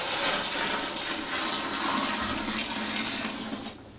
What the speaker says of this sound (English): now that my water is boiling, I'm going to take that boiling water